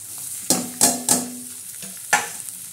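Tomato and onion stirred into a hot tadka in a pan while making a Maharashtrian chickpea usal, giving a few distinct scraping stir strokes over a soft, steady sizzle, close and moderately loud.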